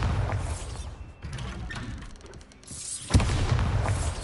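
A Bombarda blast spell cast in the Hogwarts Legacy video game lands as a loud booming impact with a crackling mechanical rattle, dips briefly, then a second sharp boom swells into sustained rumbling.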